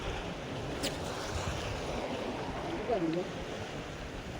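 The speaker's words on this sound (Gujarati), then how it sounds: "હજુ આ મોજો કેમ આવે છે" Sea waves washing around a fishing boat, a constant broad rushing with wind buffeting the microphone, steady and loud throughout, with a faint brief whistle-like sound near the end.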